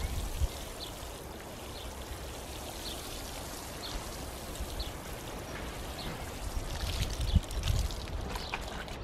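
Water poured over newly planted cobra beans in a garden bed, a faint steady splashing and trickling like light rain that continues throughout, with occasional soft knocks.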